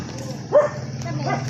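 A dog at a home inspected by animal welfare responders gives a single short bark or yelp over steady background noise, with a fainter second call following a moment later.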